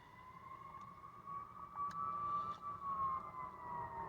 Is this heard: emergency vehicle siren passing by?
yes